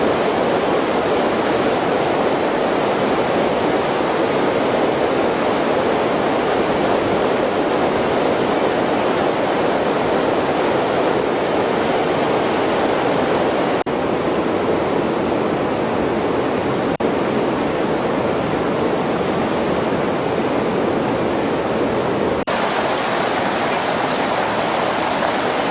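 Rapids on the Peshtigo River rush in a steady, loud roar of churning whitewater that holds unbroken from start to finish, with no voices over it.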